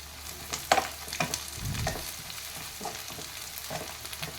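Onions and coriander leaves frying in oil for an egg curry, a soft close sizzle with scattered clicks and stirring scrapes from a utensil, plus a brief low thump in the middle.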